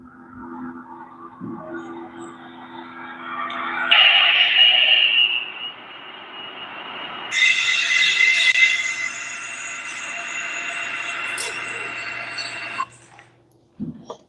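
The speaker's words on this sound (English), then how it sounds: "I'm going to play what data centers sound like 24/7." Phone recording of data center noise: a constant droning hum with high whining tones that swell and shift, growing louder and brighter partway through before cutting out, heard alone.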